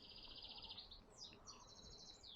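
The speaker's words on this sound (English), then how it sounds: "You hear our birds, aren't they lovely?" Garden birds on an allotment give bright, high chirping trills in quick repeated bursts, fairly faint and a little distant over a soft outdoor background, with no talk.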